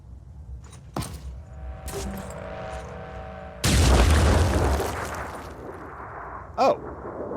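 Grenade hitting a building and exploding in the video game Phoenix Point: a few sharp clicks and tones, then a sudden heavy boom with rumbling debris that fades over a second or two, followed by a brief later pop.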